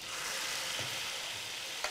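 Meat broth poured into a pan of frying green chillies, giving a steady close hiss and sizzle with light stirring scrapes and a brief sharper splash near the end.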